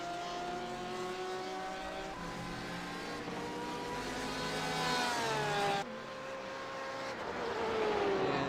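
A GT1 race car's engine roars at Barber Motorsport Park, loud and sustained with rising and falling pitch through gear changes, briefly cutting off before building again as another car presses close on track.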